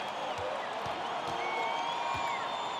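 Basketball arena crowd in NBA 2K23 roaring steadily after a slam dunk in Chicago, a dense continuous cheer with faint whoops throughout.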